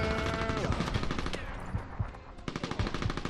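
Enemy gunfire in the video game Mercenaries: rapid bursts of automatic fire and sharp gunshots rattle throughout, with a brief lull before several louder, separate shots.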